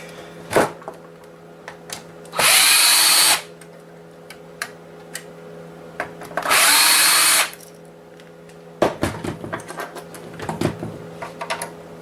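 Two sustained bursts of a small electric screwdriver or drill whirring loudly, removing security Torx screws from inside a PS3 console, each run lasting about a second with clicks and handling noises between.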